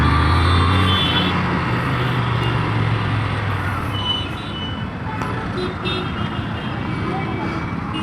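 Busy evening road traffic in Patna, with a steady broadband rumble of car and truck engines close by, continuous through the whole stretch and slightly louder at the start.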